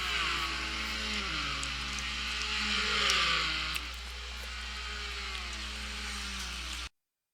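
A Maserati and a Porsche GT1 race car duel in a sim racing game at Watkins Glen, their engines droning loudly with rising and falling pitch as they shift and accelerate, ending abruptly in silence.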